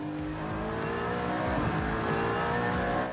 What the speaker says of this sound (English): when the V8 engine with 575 horsepower responds to the throttle, an amazing sound.